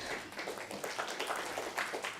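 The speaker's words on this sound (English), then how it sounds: "A round of applause once again to our high table." Applause from a conference audience for the high table at a Caribbean water investment session, a fairly quiet, steady patter of hand claps lasting a couple of seconds with no voices over it.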